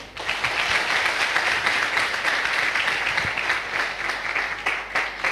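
Audience applause at a Safe Shop leadership event, a dense, steady round of clapping from a crowd that carries on evenly for several seconds.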